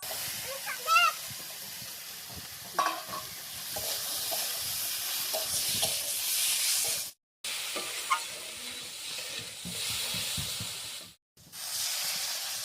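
Fried potatoes added and stirred into sizzling turmeric and salt spice masala in a village-style prawn curry: a steady loud hiss of frying with scraping stirs and a few clinks, cut by two brief silences.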